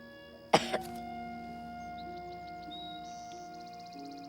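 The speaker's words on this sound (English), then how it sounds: "Even bigger cough." One firm cough followed by a smaller second burst, then near silence with faint high tones and ticking in the background.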